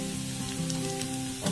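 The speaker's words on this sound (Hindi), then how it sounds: "इसमें हम अब गार्लिक पेस्ट डालते हैं" Garlic paste sizzles in a hot pan of frying onions for Dhaba-style bhindi masala, a steady close crackling hiss over a faint low hum.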